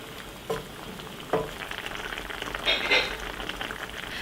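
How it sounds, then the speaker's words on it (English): Mapo tofu soup simmering in a pot in a home Sichuan kitchen, a steady bubbling sizzle close by with a few brief louder pops and clatters, and no talking. "Now we're just gonna let this boil for like about 5 minutes."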